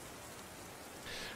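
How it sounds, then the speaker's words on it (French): Heavy rain in big drops beats down on the roof of a shelter, a dense, steady hiss of close impacts that swells slightly louder near the end, with no voices. "La pluie est toujours battante, vous entendez les grosses gouttes qui s'écrasent sur l'atoll qui sert de toit"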